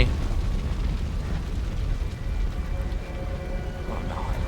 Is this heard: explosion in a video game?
yes